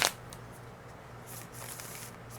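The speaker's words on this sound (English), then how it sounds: "So I'm going to quickly shuffle these." A Nightmare Before Christmas tarot deck is shuffled by hand, opening with a sharp riffle and followed by soft, close-up papery card slides and light rustles.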